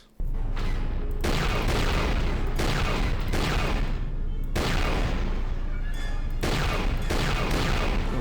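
Continuous, close turret fire in the KoTOR 2 video game: dense, rapid volleys of booming blaster shots pound on without pause for several seconds.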